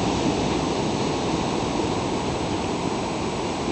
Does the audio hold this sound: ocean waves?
yes